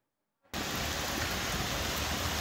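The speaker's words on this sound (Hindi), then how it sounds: "गुज़िश्ता रात से यहाँ पर तेज़ बारिशें हो रही हैं" Heavy rain on a street in Clifton, Karachi, bursting in abruptly after a moment of silence, then a dense, loud, steady hiss of downpour that fills the rest of the clip.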